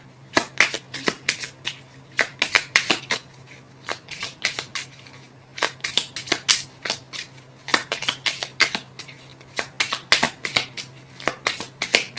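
A Lenormand card deck is shuffled repeatedly by hand, producing close, crisp bursts of riffling and flicking in quick rhythmic clusters with brief pauses, with no talking.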